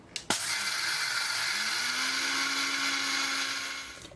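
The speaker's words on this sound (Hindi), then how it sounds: "फटाफट से आप इसको मिक्सर ग्राइंडर में ट्रांसफर करना और दाल को आपने पीसना है" A kitchen mixer grinder starts with a sharp click and then whirs loudly and steadily, grinding dry chana dal with a rattling, high-pitched roar.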